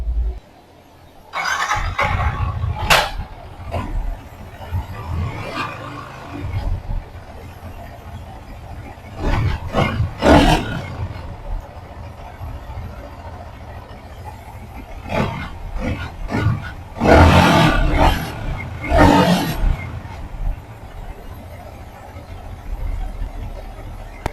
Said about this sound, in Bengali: ইঞ্জিনের যে নয়েসটা আছে